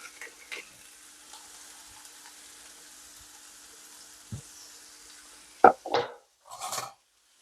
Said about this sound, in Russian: Давайте отправим лук на обжарку